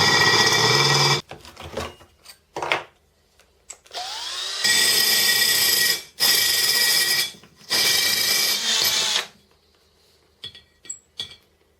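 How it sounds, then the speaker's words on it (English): Several bursts of high, whining drilling into a glass jar with a carbide bit lubricated with washing-up liquid, separated by short pauses, with a faint clink of glass between them; close and loud. "So the first thing I'm going to do is drill a hole."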